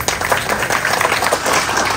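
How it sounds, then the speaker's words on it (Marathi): Audience clapping and applause for Gajanan sir at a first birthday celebration, a steady dense patter of many hands sustained at even loudness throughout, with no talk over it. "एकदा गजानन सरांसाठी टाळ्या झाल्या पाहिजे."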